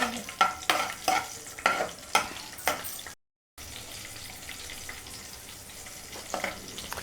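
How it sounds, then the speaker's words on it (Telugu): Green chillies frying in a pan for a bottle gourd curd chutney, with repeated scraping stir strokes over a low sizzle and a brief dropout midway. "పచ్చిమిర్చి వేగిద్దాం"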